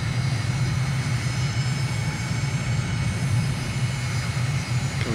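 Steady, droning engine of an aircraft in Microsoft Flight Simulator on landing approach with gear and flaps down, flying near Bujumbura, Burundi. It holds loud and constant throughout, with no talk.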